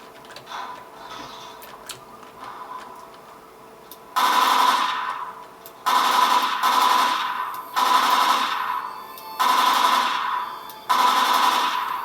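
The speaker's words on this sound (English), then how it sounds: "It's nice when the zombies just stand there and don't react to really loud machine guns." Machine gun fire in a zombie video game plays as five loud, sustained automatic bursts about a second long each, separated by short pauses, after a quieter stretch of game ambience.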